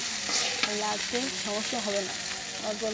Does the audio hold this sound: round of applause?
no